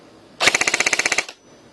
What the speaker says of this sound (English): So let's put it on full auto, see what it does for rate of fire.